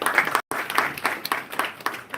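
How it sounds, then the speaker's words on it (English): Audience at an international seminar applauds a speaker who has joined online: a short burst of scattered, uneven claps with a brief dropout near the start. "Please give him a round of applause."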